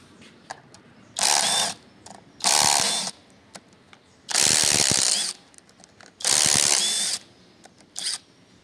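A hand ratchet loosens the fork bolts on a Honda XR200 motorcycle, sounding in five separate bursts of rapid clicking, each lasting about half a second, with short quiet gaps between them.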